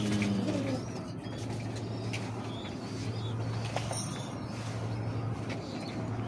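Pigeons coo softly in a home loft during a winter care session, low repeated coos over a busy background with faint chirps, brief wing flutters and a steady hum, no voices.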